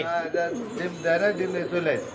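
A pigeon at a pigeon market coos close by in soft, wavering phrases, with a voice talking alongside.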